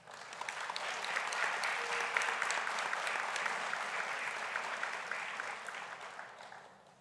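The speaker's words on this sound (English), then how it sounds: "please give them a round of applause." Audience applause at a high school Seal of Biliteracy ceremony honors award recipients, a full, sustained round of clapping that rises quickly and stays steady for about seven seconds before easing slightly at the end, with no voices.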